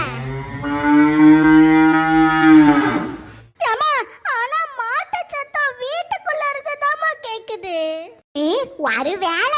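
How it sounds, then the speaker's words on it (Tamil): A cartoon cow lets out a long, loud moo from inside a house, followed by several people, including a child, talking and calling out. "ஆனா மாடு வீட்டுக்குள்ள இருந்து சத்தம் போடுது"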